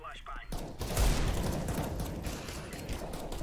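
Rapid bursts of video game gunfire crackle loudly and continuously in an online shooter match, with players talking over the shots.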